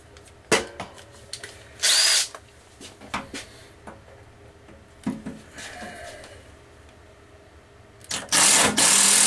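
A power drill whirs in short bursts, with two main runs near the start and end and scattered clicks and knocks between them.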